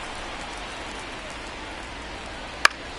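Rain falls on a baseball field as a soft, even patter, steady and fairly close, with a single sharp click near the end.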